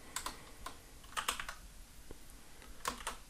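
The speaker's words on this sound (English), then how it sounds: "I'm going to type here" Someone types code on a computer keyboard while programming an Arduino: irregular clusters of crisp key clicks with short pauses between them, close up and with no talking.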